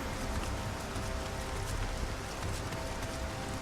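Rain falls steadily in the video game Nioh, a soft, distant wash of pattering drops that stays even and faint throughout with no one talking.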